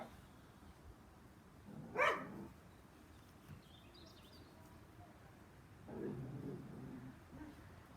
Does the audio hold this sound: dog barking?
yes